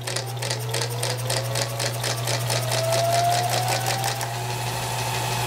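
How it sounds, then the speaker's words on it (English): A small mystery engine runs and speeds up while its exhaust cam detent latches, giving a rapid, regular mechanical clatter over a constant low hum. The ticking fades out near the end. "mind the noise, that's the detent on the exhaust cam."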